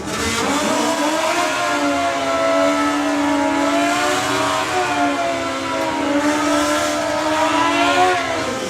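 Drag racing motorcycles in the 950 bike class launch on a run, a loud, sustained high-revving engine roar with rising and shifting pitch, close and continuous throughout.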